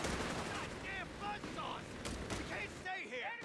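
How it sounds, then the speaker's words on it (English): Heavy machine gun fire and other battle noise in the World War II strategy game Company of Heroes 3, a dense rattle of rapid shots with chirping effects, kept low and continuous throughout. "Second heavy machine gun. And make quick work of those riflemen."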